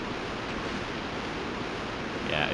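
Water surges through the caves of the Amiga game Another World, a steady, full roar of rushing noise that swells slightly near the end, with no voices over it.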